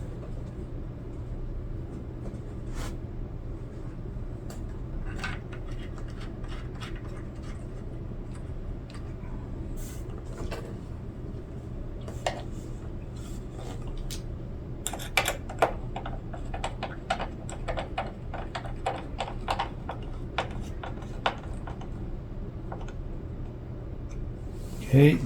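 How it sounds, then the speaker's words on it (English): Screws being driven into a car dashboard panel, heard as scattered small clicks and ticks over a steady low hum, growing busier and sharper toward the end. "So now we're gonna put the screws in."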